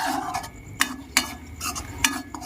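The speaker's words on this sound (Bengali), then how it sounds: "তো এইভাবে অনবরত নাড়তে হবে, তাহলে দেখবেন তলাতে একটুও লাগবে না" A spoon scrapes and stirs a homemade herbal hair oil mixture in a kadai over a low flame. Sharp metallic clinks and scrapes come in an irregular rhythm over a soft sizzle, close up, with no voices.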